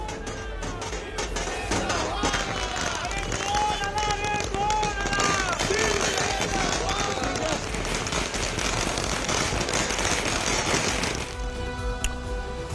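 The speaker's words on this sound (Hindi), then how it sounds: "पटाखे फोड़े, नारे लगाए।" Firecrackers burst during a political celebration at a party headquarters, a rapid irregular crackle of sharp pops under crowd noise and chanting voices, continuing for most of the stretch before cutting off near the end.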